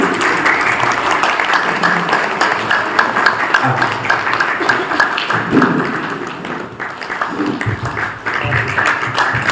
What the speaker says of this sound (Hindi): जोरदार तालियों से हम स्वागत करें।